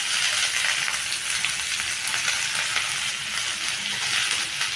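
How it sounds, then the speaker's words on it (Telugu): Leaves fry in seasoning oil in a pan, making a loud, dense, continuous sizzle with a fine crackle throughout. The sound is close up, with no voices. "దాంతోపాటుగా ఆకు వేసేస్తే మగ్గిపోతుంది, కొంచెం వేగినట్టు అవుతుంది అన్నమాట ఇది బాగా"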